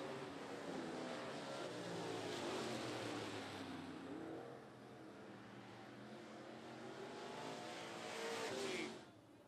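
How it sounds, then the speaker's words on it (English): Race trucks roaring around the 411 Motor Speedway in a Thunder and Lightning class heat, engines droning and rising and falling as they pass, fairly distant, with a swell near the end before the sound drops. "white flag for the 74 truck of Freddie Hilliard"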